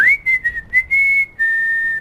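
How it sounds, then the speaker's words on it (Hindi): Someone whistles a few short rising and wavering notes, then holds a long steady tone, close and clear with no talking. "अरे सीटी मत मारो यार"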